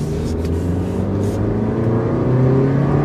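A 2015 Toyota Yaris, a French-built compact car, accelerates at full throttle, its engine droning steadily and loud from the cabin, with the pitch climbing gradually across the whole stretch and no talk.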